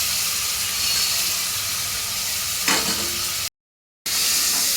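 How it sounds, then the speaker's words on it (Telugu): Tomatoes sizzling and frying in a pan with onions and green chillies, a steady close hiss with a brief stirring scrape near the end and a short dropout before the sizzle resumes. "టమాటా వేసుకుంటున్నా."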